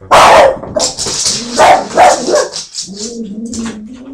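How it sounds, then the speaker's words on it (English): One of the household dogs barks several times, loud and close, sharp yaps spread across the few seconds with no talk over them. "That was one of our dogs, I think."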